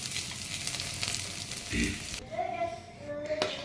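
Tomatoes hit a hot pan and sizzle loudly, frying with a steady crackle and brief stirring sounds, close up.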